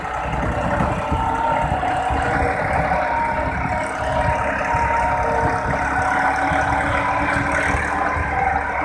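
Massey Ferguson 260 Turbo tractor with a front blade, its diesel engine pulling a loaded trolley, droning steadily and fairly loud at close range with a low rumbling chug and no pauses.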